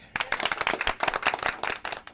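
A small group claps at a live entertainment show, a quick burst of irregular, fairly close hand claps that runs for about two seconds before fading.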